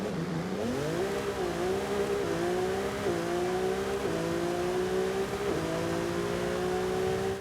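Ferrari 296 GTB supercar engine in Forza Horizon 5, droning steadily and loud throughout, stepping up in pitch through a series of gear changes as it accelerates, with no talking.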